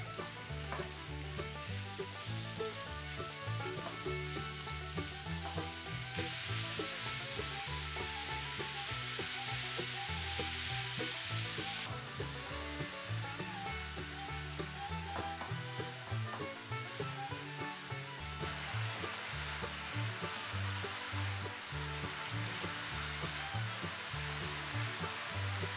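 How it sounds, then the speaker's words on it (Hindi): Half a kilo of minced beef sizzles and fries in a pan, a steady dense crackle with stirring scrapes throughout, close and loud, with a louder burst of hiss midway, no talking. "अब इसमें ऐड करेंगे आधा किलो बीफ का कीमा और इसको भी तकरीबन 3 से 4 मिनट भूनेंगे"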